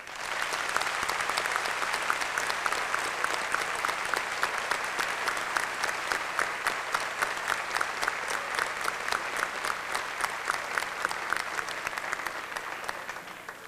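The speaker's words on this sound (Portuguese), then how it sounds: "Que os nossos homenageados sejam saudados com uma salva de palmas" Sustained applause from an audience saluting honorees at a commemorative Victory Day session, many hands clapping in a dense, even patter that builds into a more rhythmic beat and holds steady for over ten seconds, moderately distant, without speech.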